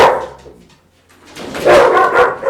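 Several dogs bark in excited, loud bursts close by, first a short volley, then a brief lull and a louder, denser run of barking and yips at the end.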